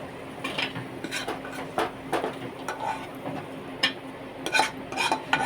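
Metal bowls and utensils clink and scrape in a home kitchen while dried-date laddus are being made, a series of close, irregular clatters and taps over faint background hiss.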